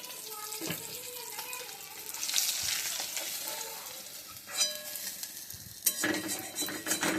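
River boal fish frying in a pan, a steady broad sizzle with scraping and spatula clatter, louder bursts toward the end as the pieces are turned, and no talk.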